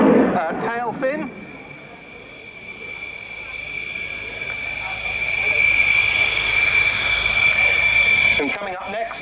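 Eurofighter Typhoon jet fighter flying a display at Yeovilton Air Day, its engine a whining tonal roar that swells and fades at a distance, with a voice talking over the start and the end.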